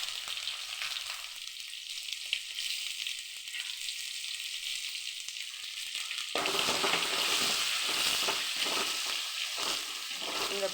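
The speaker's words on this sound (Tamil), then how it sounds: "வெங்காயம் போட்டுக்கலாம்." Onions go into hot oil with crushed garlic for a fish curry. A softer sizzle swells suddenly into a loud, crackling fry that carries on steadily and close up.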